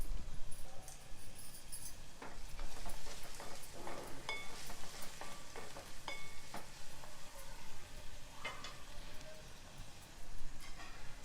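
Sliced capsicum and onions with a pinch of salt frying in a pan for pav bhaji, a steady close crackling sizzle throughout with occasional light scrapes and taps of a utensil.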